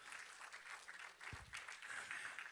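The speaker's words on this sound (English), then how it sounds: "Give Jesus a big hand clap of praise in this house." A church congregation claps in praise during a Sunday service. The applause is faint and distant, a thin patter of many hands, broken by one brief low thump partway through.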